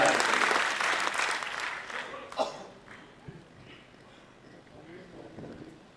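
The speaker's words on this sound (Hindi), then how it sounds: "एक बार तालियां भाई साहब आगे।" Audience applause at a Hindi kavi sammelan, a loud wash of many hands clapping that tapers off after a few seconds, followed by someone speaking.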